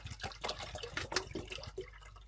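Water is poured into a small pot on a solo snow camping trip, a faint steady splashing and trickling that runs throughout with no talk over it.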